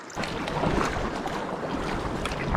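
Paddling a kayak on sea swell along a cliff-lined coast, with steady splashing water and wind buffeting the microphone, a dense close wash of noise that continues throughout.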